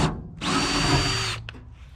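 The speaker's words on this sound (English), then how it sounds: "Since I gotta drill a hole" A power drill whirs loudly for about a second drilling a hole in a 1962 Chevrolet C10, then stops, followed by a short buzzing burst; nobody speaks.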